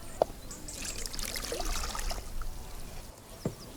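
Tap water trickles and splashes steadily while meat is rinsed for cooking in a kitchen, a soft continuous stream with occasional louder splashes.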